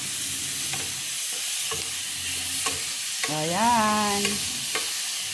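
Clams in a pan at home, seasoned with Magic Sarap, sizzle while being stirred and sautéed; a spatula scrapes and taps the pan at intervals, and a voice briefly speaks over the steady frying.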